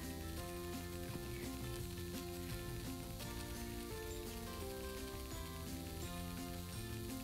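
Banana flower dosa batter sizzling on a hot pan, a steady dense crackle running throughout at low volume, with background music tones layered over it and no talking.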